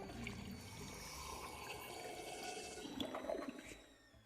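Toilet in the video game Shadows Over Loathing flushing, a steady rushing swirl of water that swells near the end and fades, moderately quiet, no talk.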